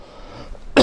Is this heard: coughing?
yes